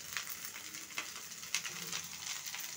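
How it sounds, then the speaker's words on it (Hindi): Mixed vegetables with beans fry in a pan with a faint, steady sizzle, broken by a few soft stirring scrapes and clicks, with no voices. "एक एक करके थोड़ा थोड़ा फ्राई करके, ताकि सभी सब्जी अच्छे से फ्राई हो जाए"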